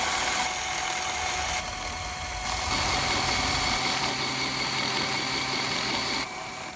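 A LEGO Power Functions motor drives a water mill wheel on a medieval model, giving a steady, loud mechanical whirr and buzz with a fixed tone, shifting slightly in level partway through and dropping near the end.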